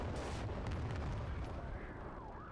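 Weapon fire in the Cold War tactical wargame Combat Mission: Cold War, a dense rumble of distant shots and booms blending into a continuous low battlefield roar throughout.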